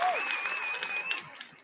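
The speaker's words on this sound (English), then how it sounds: "Let me give them some applause." Applause breaks out from a live audience on a talk show, a steady wash of clapping that fades toward the end, with a voice briefly heard over it.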